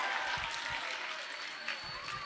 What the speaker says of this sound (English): Clap your hands for Trinity, guys.